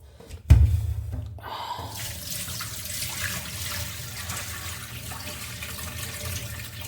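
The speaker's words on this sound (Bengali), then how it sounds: "বেশ সুন্দর করে চালটা ধুয়ে নিলাম" Rice rinsed in water in a home kitchen: a sharp knock, then a steady run of splashing and sloshing water close by, continuous and moderate, with no talk.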